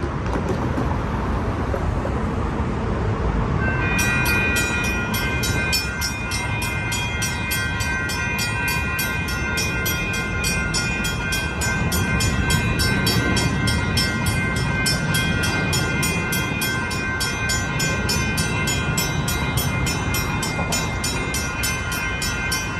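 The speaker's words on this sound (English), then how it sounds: "here comes a train" A BNSF train rolls past close by on the San Diego line, a steady loud rumble with high metallic squeals and screeching wheels that persist throughout, no voices.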